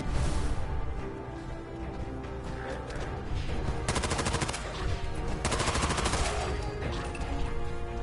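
Sustained automatic machine gun fire from a hostile sentry bot in Fallout 4, loud and continuous with dense rapid bursts and heavier clattering volleys.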